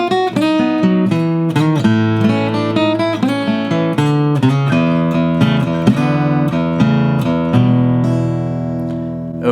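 A solo blues guitar lick moves melodically from B down through A to a resolve on E, with quick picked notes and ringing chord tones played up close and steady throughout.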